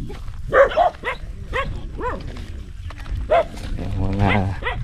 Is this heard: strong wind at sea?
no